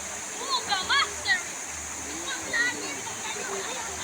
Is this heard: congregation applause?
no